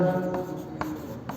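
A pen or marker scratches and taps out short strokes while someone writes names on a board, a few quick marks close by with no talking.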